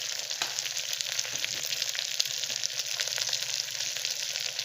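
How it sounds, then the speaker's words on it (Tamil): Brinjal pieces sauté in a pan with a soft, continuous sizzle and crackle, with occasional faint stirring scrapes and no voices. "இதில் போட்டுட்டு நல்லா 2 நிமிஷம் வதக்கணும்"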